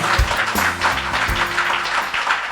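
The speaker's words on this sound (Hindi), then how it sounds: "जोरदार तालियां।" A congregation in a church claps together, steady moderate applause with a low murmur and faint tonal hum underneath, lasting throughout.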